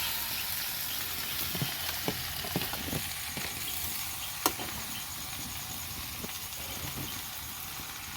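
Potatoes fry in a pan for chow mein with a steady, close sizzling hiss, punctuated by a few soft clicks and taps of stirring.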